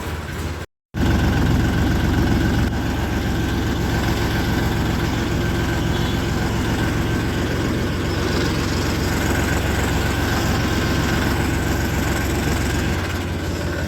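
A farm tractor driving along a road into a market area in second gear, a loud, steady low engine drone with rumbling close by throughout, after a momentary dropout near the start; no talking.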